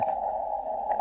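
A steady tone holds at one pitch on a ham radio receiver, heard over faint static through a portable Elecraft KX2 transceiver in the field. It is close, even and unbroken for about a second.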